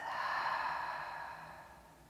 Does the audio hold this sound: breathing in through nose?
yes